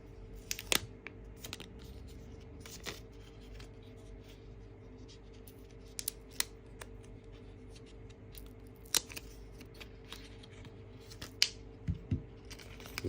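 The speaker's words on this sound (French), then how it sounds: "On va déballer le produit" AirPods Pro 2 packaging is opened up close: scattered sharp clicks, light scrapes and small crinkles of cardboard and plastic, faint and sparse over a quiet room hum, with no talking.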